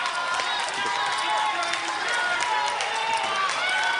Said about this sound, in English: And the Brew Boys cheer.